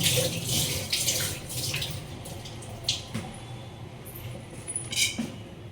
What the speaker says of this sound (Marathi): भाजीला वापरताना एकदम स्वच्छ क्लीन धुवून घेते कोथिंबीर मी